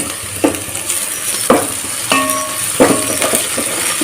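Onion frying on a medium flame with ginger garlic paste stirred in for a veg pulao, a steady sizzle under four distinct scraping stirs of a utensil against the pan, roughly one each second.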